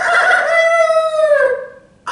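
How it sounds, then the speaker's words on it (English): A rooster crows once in a single long, drawn-out call that falls in pitch at the end, loud and close, used as a sound effect within a told ghost story. "I hear a rooster crowing."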